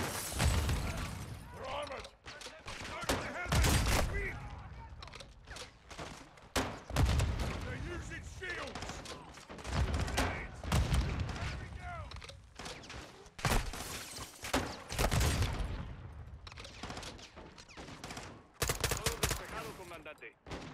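Gunfire in Call of Duty Modern Warfare 2, dense bursts of automatic weapons fire and sharp single shots with rattling mechanisms, loud and near throughout with brief pauses and some voices mixed in.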